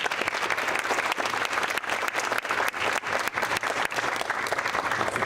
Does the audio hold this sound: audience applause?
yes